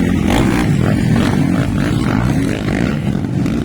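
A motocross motorcycle engine roars steadily and loudly nearby during a race, with a rough buzzing drone that holds throughout.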